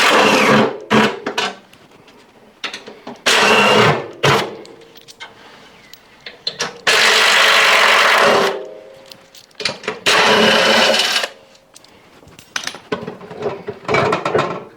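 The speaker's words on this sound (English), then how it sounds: "So I'm just going to undo all of these bolts completely around the outside" Bolts undone from the drum spider of a built-in integrated Bosch washing machine: loud repeated bursts of a whirring power driver, each a few seconds long, with ratcheting clicks and metallic handling between them.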